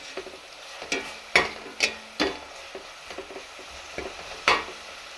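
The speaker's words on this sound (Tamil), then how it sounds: "இஞ்சி பூண்டு பேஸ்ட் ஆட் பண்ணியாச்சு நல்லா வதக்கிக்கலாம்" Ginger garlic paste sautés in a pan for chicken gravy, with a soft sizzle beneath repeated sharp spatula scrapes and clinks against the pan, about a dozen irregular strokes close by.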